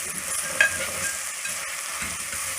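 Potato halwa being stirred and roasted in a pan, a steady close sizzle with a soft scrape of the spoon partway through, no talking.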